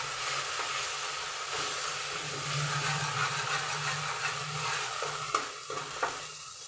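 Ginger paste and spices sizzle in a hot kadai, a steady hiss filling the space. A few stirring scrapes and taps break in near the end, close by and without any talk.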